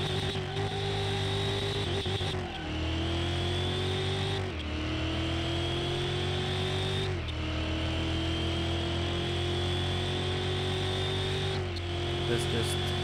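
A 2100 HP Hammerdal Strale S in Car Mechanic Simulator 2021 accelerates hard, its loud engine note climbing steadily through several gear changes with short dips between each rise.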